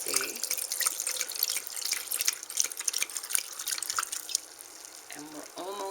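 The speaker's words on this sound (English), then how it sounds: "So we're pouring the wine into the pan" Riesling wine being poured into a pan to poach pears, a close trickling, splashing liquid stream with drips running throughout, under and between bursts of a voice.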